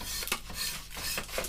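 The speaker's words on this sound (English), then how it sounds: "Then we'll use a finer sandpaper, and then when it's nice and smooth" Steady rasping rub of sandpaper on a wooden English longbow, close and continuous with rhythmic back-and-forth strokes.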